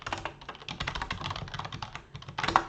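Quick, uneven typing on a computer keyboard while entering messages in an online event chat, close and clear with no voices, a burst of louder keystrokes at the end.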